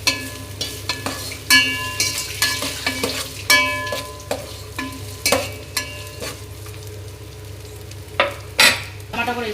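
Ginger garlic paste frying in a pan for chicken dum biryani, with a steady sizzle under repeated scraping and clinking strokes of a spoon against the pan.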